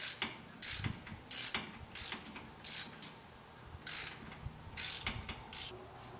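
A ratchet wrench tightens a spark plug on a 2015 Chevy SS Camaro, giving close, crisp bursts of clicking, about eight short runs separated by brief pauses, with no talking.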